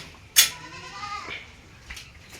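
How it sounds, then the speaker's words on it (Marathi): A single local country-breed goat bleats once nearby, a short wavering cry, followed by quiet background with a couple of faint rustles. "ही शेळी आहे ही आपली गावरान शेळी"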